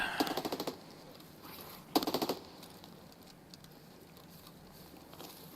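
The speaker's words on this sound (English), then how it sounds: "that gunfire sounds very angry" Gunfire in Escape from Tarkov, heard as two brief rapid bursts of automatic fire near the start and again about two seconds in, fairly faint and distant, followed by quieter scattered shots and ambient noise.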